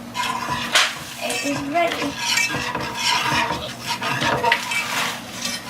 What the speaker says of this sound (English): my helper will whisk the batter continually until